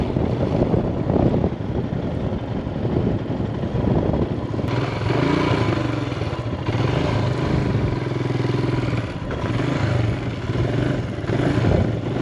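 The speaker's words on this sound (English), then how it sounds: "First I need to turn my bike." A motorcycle on a wild dirt trail idles and revs steadily while being turned around, its engine drone loud and continuous with some clatter, with no talk.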